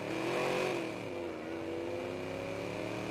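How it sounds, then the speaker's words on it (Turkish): Car engine in the video game Watch Dogs, a steady droning rev that swells briefly early on and then holds an even, continuous tone, with no talking. "araba çok güzel sesi yapmışlar"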